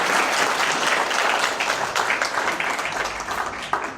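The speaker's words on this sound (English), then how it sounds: "Shall we give him a round of applause?" A room full of people applauds the founder at a gathering in a Durban venue, a full, even round of clapping that gradually tapers toward the end with a few louder individual claps.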